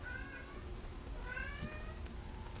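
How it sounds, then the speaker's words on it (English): A pet cat meows twice indoors, each a whiny, rising-and-falling cry, the second longer and more drawn out. The sound is near but fairly quiet against a low background hum, with no voices. "That is my whiny ass cat."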